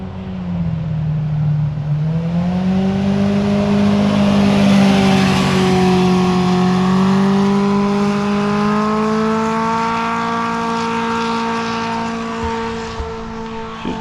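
A vehicle engine fitted with a Bikeman center exit muffler revs up, its exhaust tone rising and holding in a loud, sustained drone before easing off, captured up close on a small action camera.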